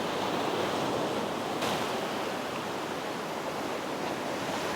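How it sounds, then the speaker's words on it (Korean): Loud, continuous roar of strong sea waves crashing and surging on the coast at Jumunjin, Korea, a dense wash of surf noise with no voices. "근데 파도가 지금, 아, 생각보다 너무 센데?"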